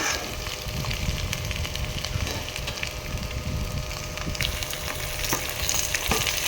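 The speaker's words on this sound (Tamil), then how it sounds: "நல்லா வதங்கினதும் ஒரு மூணு தக்காளி ஆட் பண்ணியிருக்கோம்" Tomatoes sautéing in hot oil with ginger and garlic for a chickpea biryani, a steady loud sizzle and crackle with occasional stirring scrapes, no speech.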